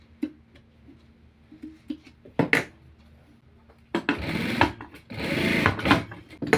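A sewing machine stitches a side pocket on trousers, first a few short clicks and a brief whir, then a longer run of close, steady mechanical stitching with short pauses.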